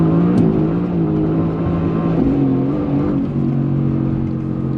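A 2019 Mercedes-AMG GT S V8 with factory exhaust holds a loud, steady idle-to-mid rev, its deep engine drone running continuously up close with a slight swell in the middle.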